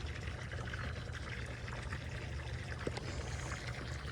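Water pours steadily while houseplants are watered, a soft, continuous trickle close by and fairly quiet, with no breaks.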